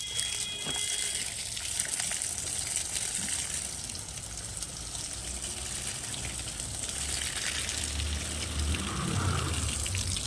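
Water from a motor pump gushes in a steady, continuous rush, with a low mechanical hum underneath and no talking.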